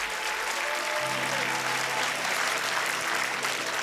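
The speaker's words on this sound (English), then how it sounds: "Come on, give him another round of applause" Furovision audience at NordicFuzzCon 2025 applauding the host, a loud, continuous burst of clapping from a large crowd, with faint music droning beneath.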